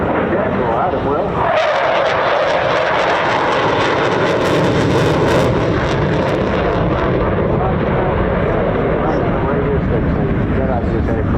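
A jet performing rolls in a flying display at the Bournemouth Air Festival 2022 air show, its engine roaring loud and steady throughout, swelling as it passes, with a commentator talking over it.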